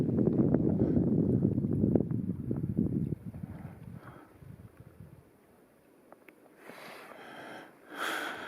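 Gusts of wind buffet the microphone beside a mountain lake, loud and blustery at first, then easing off before rising again near the end.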